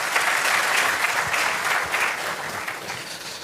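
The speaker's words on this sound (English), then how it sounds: "Another round of applause for our foreign service." A conference audience applauds Ghana's foreign service at a heads of mission and envoys' gathering, a steady, full round of clapping lasting the whole moment.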